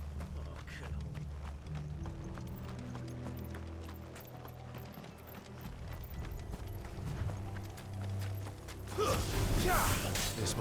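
Horse hooves clip-clopping in the video game Final Fantasy XVI: rhythmic hoof beats and creaking mechanisms under a spoken game voice, with a brighter surge of noise near the end.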